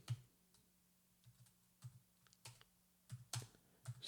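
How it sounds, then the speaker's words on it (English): Computer keyboard typing while entering text into a Microsoft Excel spreadsheet invoice: scattered, fairly quiet key clicks in short irregular bursts with brief pauses between, no voices. "I'm going to type"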